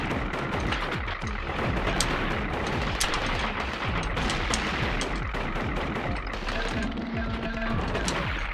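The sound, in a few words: gunfire and bullets in video game Gato Roboto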